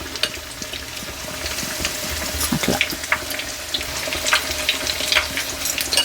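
Batter-dipped egg slice bajji frying in hot oil, a steady bubbling sizzle with scattered sharper crackles and a few soft handling clicks throughout, close and moderately loud with no talk.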